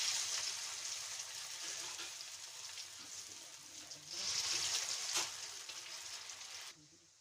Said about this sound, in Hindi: अब हम पकौड़े बनाना स्टार्ट करते हैं